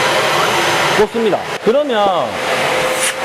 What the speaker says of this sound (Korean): 내가 가진 청소기에 전원을 켜서 빨아당기는 거를 작동을 시킵니다.